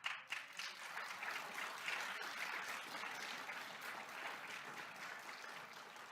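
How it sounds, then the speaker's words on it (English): An audience at a county budget address applauds, a dense, even wash of many hands clapping that fades slowly over several seconds. "And you're clapping"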